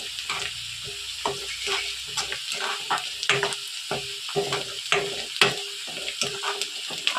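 Onions sauté gently in a pan until soft, a quiet sizzle punctuated by regular scraping stir strokes against the pan, heard close with no voices.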